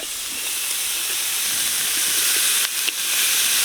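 Mutton fat hitting a hot pan for a Karnataka-style rice dish, giving off a loud, steady broadband sizzle and hiss that runs unbroken, with brief dips near the end.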